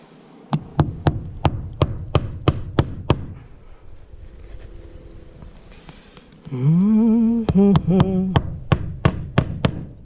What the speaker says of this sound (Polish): Gdzie jest młotek?